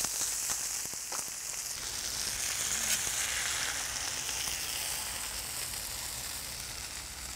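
Halved fresh garlic cloves fry on a hot iron griddle, giving a steady, close sizzle that holds at an even level from start to finish with no talk over it.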